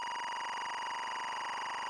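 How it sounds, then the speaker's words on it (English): A harsh, steady electronic warble with a buzzy, data-like tone, continuous and unchanging throughout, fairly loud and grating. "the camera hears the linear timecode, which sounds like this"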